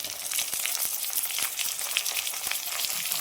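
Tomatoes hit onions already frying golden brown in a pan for a hotel-style chicken kulambu, giving a steady close sizzle with a dense crackle of fine pops throughout and scattered sharper spits.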